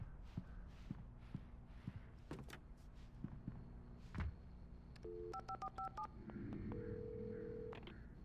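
A few footsteps and a door clunk inside a gas station in the video game Alan Wake Remastered, then a rapid series of telephone keypad tones dialing a number, followed by a steady ringing tone.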